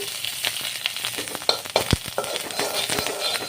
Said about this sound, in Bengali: আর এই তেলের ভিতরে আমি নিম পাতাগুলোকে দেব। পাতাগুলো আমি হাফ ভাজা মতো করে নেব।